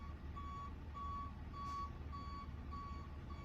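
A truck backing up, its reversing alarm sounding a steady series of evenly spaced beeps over a constant low engine rumble, heard from inside the cab, with no talking.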